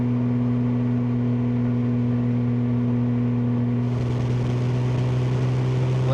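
A 1971 Jaguar E-Type Series 2 with a 4.2L engine and manual gearbox pulls harder at cruising speed, a steady loud mid-pitched engine drone with low hum that rises slightly as the throttle opens, heard from inside the car.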